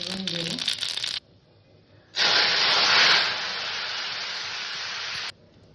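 Mustard seeds and a dried red chilli sizzling in hot oil for tempering sour dal, a loud steady hiss that starts abruptly and holds for about three seconds before cutting off, preceded by a brief voice.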